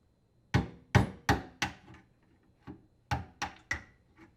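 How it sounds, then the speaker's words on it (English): Sharp metallic hammer strikes on a screwdriver knocking out a dishwasher drain tube plug, four in quick succession, a brief pause, then four more, close and fairly loud with short ringing decays. "knock out the drain tube plug using a screwdriver and hammer"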